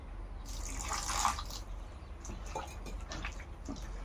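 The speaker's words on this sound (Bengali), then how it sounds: "আর অল্প পানি দিয়ে দেব" Water trickles and splashes into flour being mixed for boondi batter in a village home kitchen, close and fairly soft, with a fuller pour in the first second and scattered small drips and splashes after, no talking.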